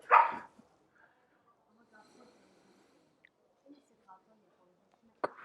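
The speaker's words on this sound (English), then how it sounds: "Dogs, they're crazy." Dogs bark in short bursts, one sharp bark at the start and another near the end, with soft snuffling and faint whimpers in between during a quiet stretch.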